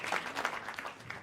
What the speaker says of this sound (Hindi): एक बार जोरदार तालियां अंकित शर्मा के लिए यार